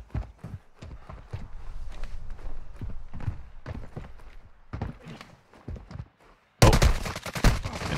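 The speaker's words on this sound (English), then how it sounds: "Shot to my right by the gas station." Gunfire in the Warzone 2.0 video game cracks in rapid sharp bursts mixed with footstep-like thuds, moderately close, ending in a sudden loud noisy burst.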